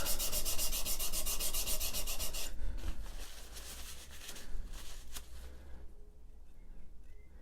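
A chisel or plane blade is rubbed across a sharpening stone to take off the burr in a woodworking shop. The strokes are steady, close and continuous, rasping for a few seconds before easing into softer, sparser scraping, with no talk.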